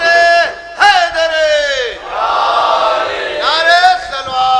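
A majlis crowd at Rauza-e-Kazmain in Lucknow roars back 'Haidar' in a loud, drawn-out shout answering a slogan call, then a second wave of massed voices rises in response.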